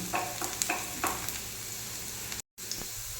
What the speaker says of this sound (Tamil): இது நல்லா செவக்க வறுக்கணும்